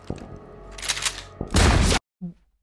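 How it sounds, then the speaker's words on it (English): Slow-motion gunfire from the TV drama Euphoria, with heavy stretched blasts and rumbling booms building to a loud, dense burst that cuts off abruptly, followed by a short muffled thud. "10 minutes of slow-mo shooting"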